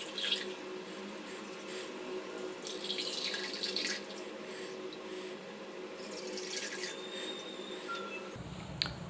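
Lemon sharbat poured into a glass over ice, a continuous close trickle and splash of liquid with bright watery spatter in bursts and faint clinks near the end.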